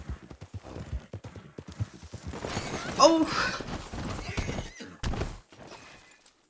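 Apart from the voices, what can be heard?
horse galloping and neighing in Red Dead Online video game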